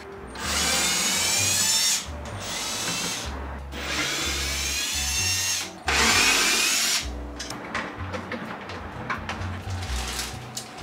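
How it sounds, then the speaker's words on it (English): A power drill unscrews an old desk top from its legs, with loud whirring bursts of a few seconds each, separated by short pauses, followed by quicker intermittent spurts and handling clatter. "we're going to unscrew the desk from the legs"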